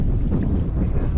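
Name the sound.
sailboat sailing past an island in wind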